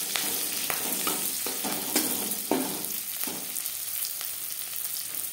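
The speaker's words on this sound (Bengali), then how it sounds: "রসুন ভাজা হয়ে গেছে, রসুন থেকে স্মেল বেরোতে শুরু করে দিয়েছে" Garlic frying in a pan for a Bengali-style flat bean (sim) dish, a steady close sizzle with occasional stirring clatters and spatula scrapes, no talking.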